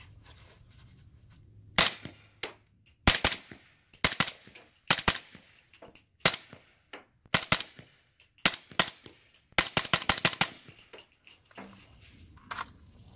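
Muffled, suppressed rifle shots from a Q Honey Badger fired into sand crack out in irregular bursts, single and double shots with some quick clusters, each followed by a brief metallic clatter.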